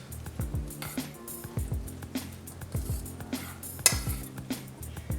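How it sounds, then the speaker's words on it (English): A spoon stirring masala corn chaat in a bowl, with rhythmic clinks and scrapes against the bowl and soft squishy mixing sounds, repeating at a steady pace. "Give it all a nice mix."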